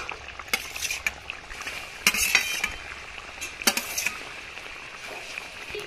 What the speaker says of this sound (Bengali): ঝোলটি খুব ভালোভাবে ফুটে গেছে, দিয়ে দেব ডিমের পোচগুলো